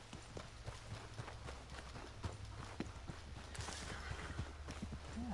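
Horse hooves clip-clop steadily in Red Dead 2 gameplay, a quiet, even run of soft hoofbeats over a low background hum.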